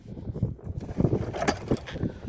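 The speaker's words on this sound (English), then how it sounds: "Sorry about all the wind." Gusts of wind buffet the microphone at an outdoor gun range, with irregular low rumbling bursts and thumps across the whole stretch and no speech.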